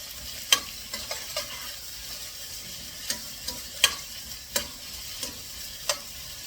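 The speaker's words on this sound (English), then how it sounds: "You can see it sizzling." Onions sizzle softly and steadily in a hot pan, broken by sharp clicks and scrapes of stirring at irregular intervals.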